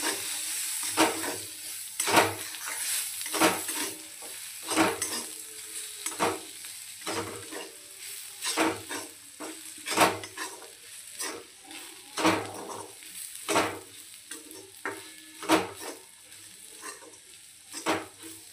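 Potatoes frying in a spiced tempering for bhagar (barnyard millet) upma. A constant hissing sizzle runs under loud, regular scrapes of a spoon stirring against the pan, and no one speaks.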